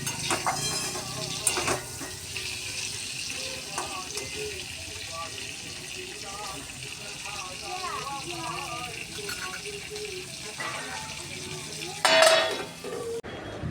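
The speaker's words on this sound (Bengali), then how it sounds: "এই পাশে হচ্ছে পটল ভাজাগুলো চাপিয়ে দিয়েছি" Pointed gourd slices fry in a pan with a steady soft sizzle and occasional stirring scrapes, alongside a pot of rice on the boil in a home kitchen, with a louder clatter near the end.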